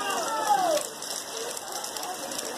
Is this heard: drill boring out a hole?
no